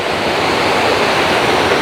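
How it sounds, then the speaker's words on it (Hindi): Creek water rushes steadily through a built channel in Juneau, Alaska, where its pressure is broken, giving a loud, continuous roar with no voices. "ये पीछे से क्रीक आ रही है, उसके प्रेशर को यहाँ पे ब्रेक किया गया है"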